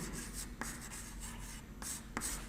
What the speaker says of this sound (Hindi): आंसर करके लिख देते हैं